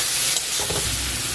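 Prawns fry with ginger paste in a pan, making a loud, close sizzle and a brief stirring scrape over a little more than a second, with no voice.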